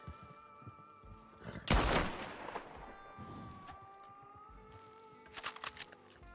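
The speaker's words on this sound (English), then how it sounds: "These are scuffed, so I am gonna shoot them" Gunfire in a GTA roleplay game: a loud burst of shots near the two-second mark, then a later cluster of sharp cracks over a quiet ambient bed with a faint steady tone.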